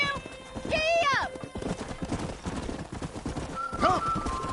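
A horse gallops in a Wild West video game, rapid hoofbeats drumming steadily, with two shrill whinnies rising over them and a voice speaking alongside.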